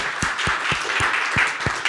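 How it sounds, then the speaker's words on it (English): Applause from a conference audience at an open innovation session, a close, loud patter of clapping with a few distinct hand claps punctuating a steady wash, no talking over it. "A round of applause."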